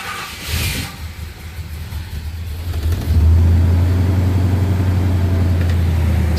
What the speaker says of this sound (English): Car should be primed and ready to go.